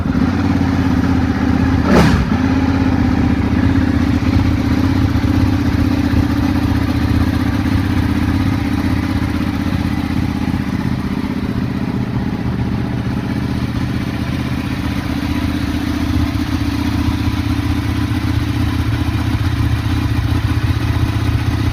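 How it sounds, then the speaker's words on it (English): A Ducati 1299 Panigale motorcycle engine fires up with a brief sharp start, then settles into a steady loud, rumbling idle with mechanical clatter throughout, no speech heard. "we just start it up, hear what it sounds like"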